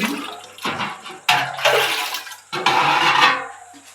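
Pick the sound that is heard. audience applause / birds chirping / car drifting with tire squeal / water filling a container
water filling a container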